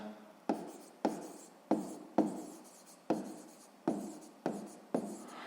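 A pen writes by hand during a sixth-grade math exercise, making a steady series of quiet scratching strokes, each starting with a small tap, close and alone.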